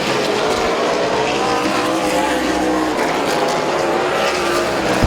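Race cars roar continuously around a dirt speedway oval at Midvale during a feature race, engines droning loud and steady with tires scrubbing, and a short sharp burst near the end.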